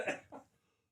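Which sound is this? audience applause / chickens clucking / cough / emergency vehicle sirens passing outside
cough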